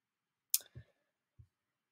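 A mouse click on an Update button in a software settings screen: a crisp close click followed by a soft second tap, then one faint click a moment later, in otherwise near silence.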